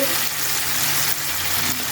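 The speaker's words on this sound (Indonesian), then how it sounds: "Itu kita goreng kembali cabai hijau" Green chilies fry in hot oil for a Sambal Jengkol, giving a steady, close crackling sizzle throughout with light stirring and no speech.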